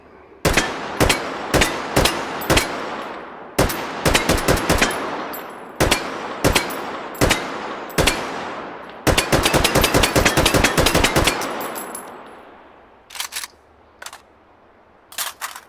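Rapid gunfire in the VR shooting game Hot Dogs, Horseshoes & Hand Grenades, with sharp single shots spaced about half a second apart, then a dense automatic burst, then a few scattered shots near the end. The shots are close and loud, with no talking.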